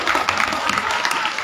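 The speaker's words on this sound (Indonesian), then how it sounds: "Tepuk tangan dulu dong untuk Mas Syarifuddin." An audience applauds at a Maulid Nabi celebration held at an Islamic boarding school, with steady, dense clapping throughout the short stretch.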